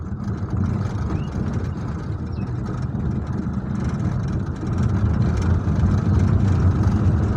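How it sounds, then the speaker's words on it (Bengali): An auto rickshaw approaches on a Bangladeshi road, its engine a steady, close rumble that swells louder toward the end, with no voices over it. "অটো রিক্সা আসতেছে, একটু সতর্ক করে দিন।"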